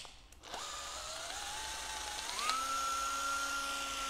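A Japanese electric drill spins up with a rising whine that steps up in pitch and then holds a steady high tone, close and alone with no talk.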